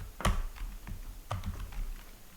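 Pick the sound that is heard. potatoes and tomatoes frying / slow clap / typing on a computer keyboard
typing on a computer keyboard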